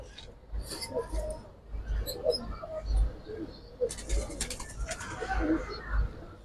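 Giribaz pigeons at an Old Dhaka seller cooing nearby in low, repeated bursts, mixed with handling noises, rustling and faint voices.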